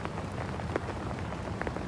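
Rain falling steadily outdoors at night, a soft even hiss with scattered faint drop taps, no voices over it.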